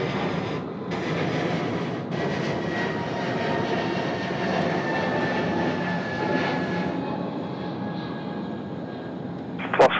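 A Cathay Pacific jet on short final to runway 34 right at Sydney Airport gives a steady, loud engine roar that holds for the whole stretch, with a faint whine running through it.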